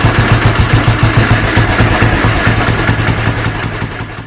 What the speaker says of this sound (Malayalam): ബുള്ളറ്റ് ഒന്ന് ഒച്ച വെച്ചു.